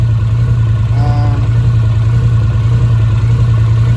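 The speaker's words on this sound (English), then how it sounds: "at idle, it does have a little bit of a lope now" Polaris Sportsman 850 ATV with an HMF Optimizer, idling close by with a slightly uneven, loping low rumble; a short higher tone shows up briefly near the start.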